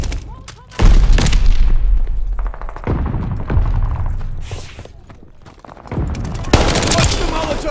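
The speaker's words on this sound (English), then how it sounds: "Throwing grenade!" Thrown grenade detonating with a heavy boom amid bursts of gunfire in Call of Duty Vanguard, Thompson M1A1 submachine gun rattling, several sharp blasts and volleys at close range with voices mixed in.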